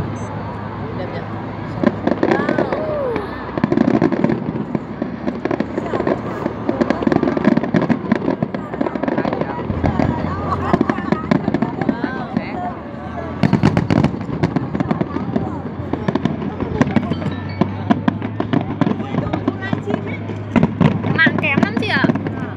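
Fireworks display at the Da Nang International Fireworks 2017, Vietnam, with repeated booms and crackling bursts that come in rapid clusters at mid distance, while spectators talk and cheer throughout.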